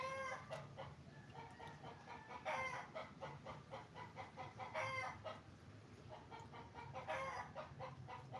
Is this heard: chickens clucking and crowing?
yes